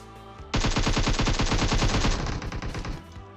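Rapid automatic gunfire in PUBG Mobile, a loud sustained burst of closely spaced shots lasting about two and a half seconds, then trailing off into scattered echoing reports.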